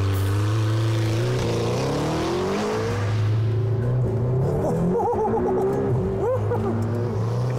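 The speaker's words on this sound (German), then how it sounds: "Die Launch Control lässt den Mittelmotorsportler wie am Gummiband nach vorne flitschen" A 620 PS mid-engine McLaren GT launching at full throttle with launch control, its loud engine roaring and climbing steadily through the revs, dipping briefly at a gear change before surging again, heard close and without talk.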